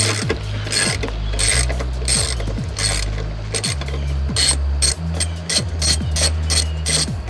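A ratchet turning a 10mm bolt on a Nissan 350Z rear diffuser, loud close rapid clicking in repeated bursts with short pauses between strokes.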